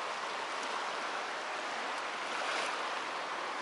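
Full, clear mountain river Psezuapse rushing into the sea at Lazarevskoye, a steady broadband wash of flowing water and surf heard close and continuous with no voices.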